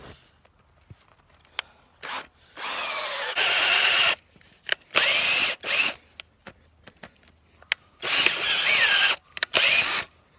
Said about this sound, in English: we're going to drill it on a bit of an angle